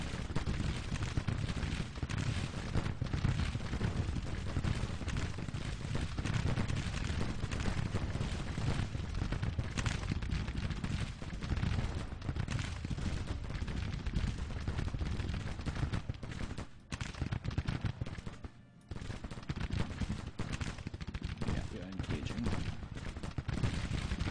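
Skirmishers' musket fire in the Civil War strategy game Grand Tactician, a continuous rolling crackle of volleys and distant cannon booms sustained steadily throughout.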